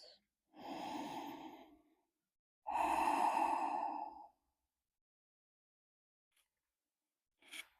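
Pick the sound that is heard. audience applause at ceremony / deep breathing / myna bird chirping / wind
deep breathing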